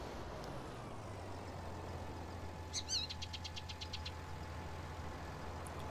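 A tractor in Farming Simulator 19 labours under a heavy load, its engine giving a low, steady drone. A brief high chirping rises partway through.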